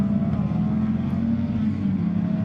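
A Honda 2.4-powered Peugeot 206 rallycross car runs at Mondello Park during a British Rallycross Championship round. Its deep, fruity engine drone holds steady and loud throughout, with no voices.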